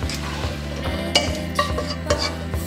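Eggplant and zucchini softening in hot oil in a pan, stirred with a utensil: a close, steady low sizzle with a few sharp scrapes and clinks against the pan at irregular intervals.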